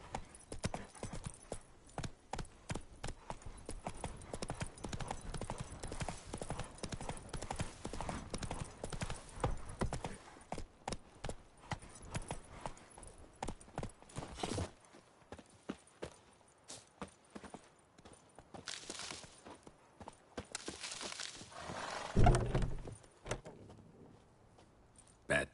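Hooves of Roach, Geralt's horse in The Witcher 3 on PS5, pound in a fast, steady galloping clip-clop that runs continuously, easing and shifting partway through, with brief muffled voices near the end.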